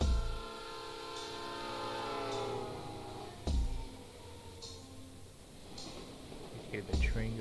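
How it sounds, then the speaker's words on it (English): A train going by in the Pokémon Reborn video game, a sustained horn-like tone over rhythmic clacking wheel thumps, with a person talking over the passing train. "Hear the train going by."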